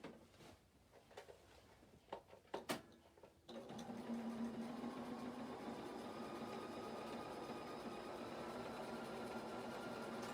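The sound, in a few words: sewing machine triple-stitching a denim skirt slit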